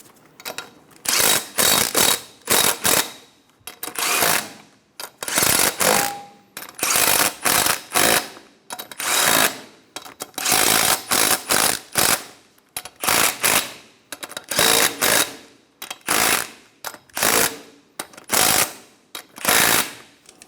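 An impact wrench snugs the wheel lug nuts on a 2000-2006 Toyota Tundra in a star pattern, firing rapid hammering bursts again and again with short gaps between them, loud and close.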